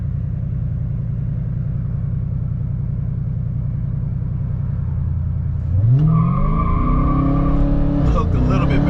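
A 2020 Dodge Charger Daytona Hellcat idles with a loud steady rumble, then launches hard from a standstill with wheelspin, its engine note rising sharply into a roaring rev, heard close from inside the car.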